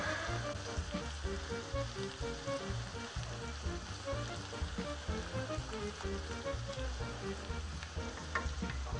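Italian chili stirred in a hot pan, a steady dense sizzle with a continuous frying crackle and low rumble throughout, fairly loud and close, no voices.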